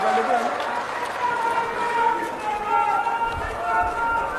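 A crowd claps to welcome Rajendra Rathore at a Rajasthan political event, a steady wash of applause running under a loud voice that talks over it throughout.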